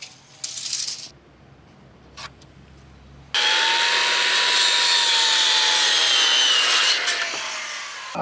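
A circular saw cuts through a wooden sill plate during garage framing on a house slab, starting abruptly and whining loudly and steadily for about five seconds after a few faint knocks.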